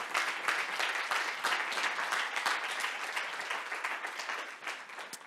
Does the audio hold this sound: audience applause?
yes